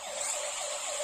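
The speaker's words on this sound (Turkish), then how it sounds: "Oo, ambulans geldi." A toy ambulance siren wails in steady repeating up-and-down sweeps, loud and close, playing alone throughout with no talk.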